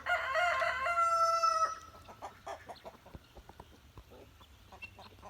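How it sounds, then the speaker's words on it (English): Chickens and guinea fowl call nearby. A loud rooster crow rings out first, followed by a scatter of clucks and short squawks at moderate volume. "They're my chickens and guineas going to eat cat food"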